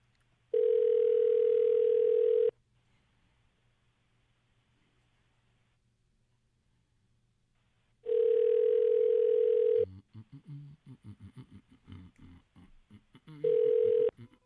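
A telephone line tone sounds while a call is placed, long steady electronic beeps separated by silent gaps, with a muffled voice on the line between the last two.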